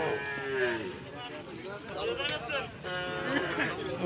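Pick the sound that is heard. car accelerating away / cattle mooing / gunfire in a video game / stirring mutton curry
cattle mooing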